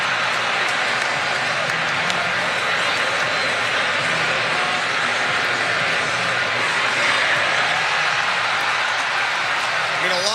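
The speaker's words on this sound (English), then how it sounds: "A lot of cheering on a replay" A large crowd at a World Series baseball game between the Toronto Blue Jays and the Los Angeles Dodgers roars and cheers at a replay, a steady, dense wash of noise from the stands that runs under a commentator's talking.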